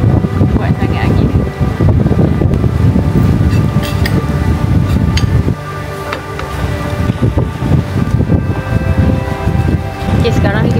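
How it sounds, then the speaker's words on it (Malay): Strong wind blows across a microphone outdoors in the morning near a boat jetty in Aceh, a continuous loud low rumble with steady buffeting and no clear pauses. "kelihatannya angin sangat kuat ya untuk pagi ni"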